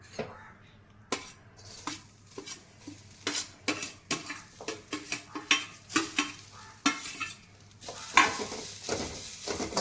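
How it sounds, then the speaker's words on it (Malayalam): Grated coconut, shallots, coriander powder and chilli powder sizzle as they fry and brown in a pan, with repeated scrapes and stirs of a spoon, close and steady, with occasional clinks of utensils. "ഇനി തേങ്ങായും കൊച്ചുള്ളി മല്ലിപ്പൊടിയും മുളക് പൊടിയും എല്ലാം കൂടി ഒന്ന് വറുത്തെടുക്കാം"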